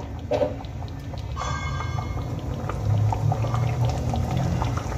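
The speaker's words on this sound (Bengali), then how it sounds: "এবার আমি আরো 2 থেকে 3 মিনিট ফুটিয়ে নেব।" Bengali-style egg masala curry bubbles and simmers steadily in a pan, a low continuous boiling burble with a brief pouring splash near the start, no voices.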